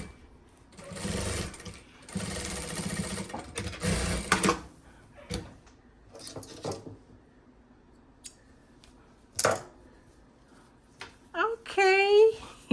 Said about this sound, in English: Stitching with stitch 3